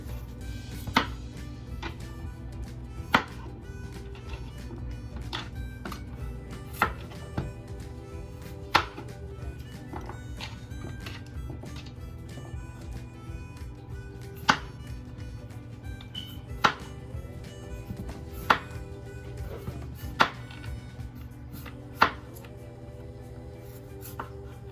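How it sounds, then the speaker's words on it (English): A knife slices potatoes thinly on a cutting board, sharp isolated taps spaced a second or two apart against a quiet kitchen background hum. "So we are going to cut these potatoes while we wait on that to melt."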